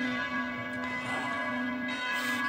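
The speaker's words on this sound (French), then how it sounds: "les cloches, elles font 18 tonnes" Huge church bells weighing between 18 and 30 tonnes ring out with strong sustained tones and rich overtones, one long resonant toll decaying and layering, loud and close with no talking.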